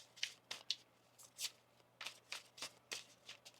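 A deck of tarot cards is shuffled in quick riffling bursts, roughly ten short papery flutters with brief pauses between them, close and fairly quiet.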